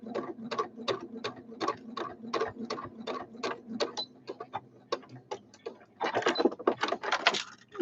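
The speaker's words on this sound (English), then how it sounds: "And I'm going to just do a straight stitch each side." A domestic sewing machine runs a straight stitch through a small fabric scissors holder, its needle clattering in a fast, even mechanical rhythm with brief pauses, close and steady, then a denser burst of stitching toward the end.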